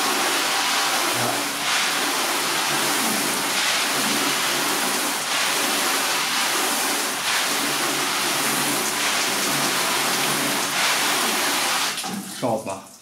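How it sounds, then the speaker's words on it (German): Water sprays steadily over a car during a wax test, a continuous loud hiss of rinsing that runs nearly unbroken for about twelve seconds before tapering off with a few clatters. "So, wir spülen das Ganze mal ab."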